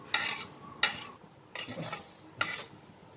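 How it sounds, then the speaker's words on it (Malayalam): A spoon scrapes and stirs rice through a thick masala mixture in a pot for plain biriyani rice, four distinct strokes over a faint background sizzle. "അതൊന്ന് നന്നായിട്ട് മസാലയിൽ മിക്സ് ചെയ്തിട്ട്"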